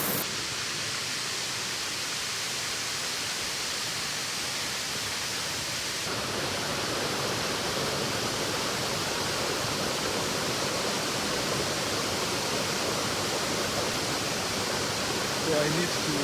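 Waterfall at Eldama Ravine in Baringo County, Kenya, a steady broadband roar of falling water that holds constant throughout with no breaks, close and continuous.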